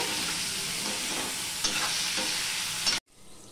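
Pieces of ash gourd fry in a hot pan with a continuous close sizzle and occasional spatula stirs, ending abruptly as the sizzle cuts to near silence.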